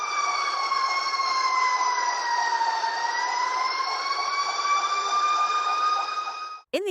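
An emergency siren wails steadily and loudly during a flood evacuation of apartment complexes in Sabaneta, Colombia, its pitch dipping slowly and rising again before cutting off abruptly.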